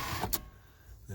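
The electric power seat motor on a 1979 Lincoln Continental whirs briefly, with a short buzzy burst, a sharp click and a quieter hum as the seat shifts forward and back.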